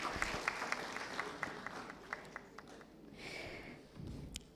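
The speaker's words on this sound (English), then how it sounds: "A very loud applause," Scattered applause from a conference audience at a national event on responsible business conduct, thin and fairly faint, with distinct individual claps over a low room murmur that fade toward the end.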